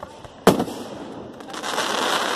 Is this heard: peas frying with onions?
no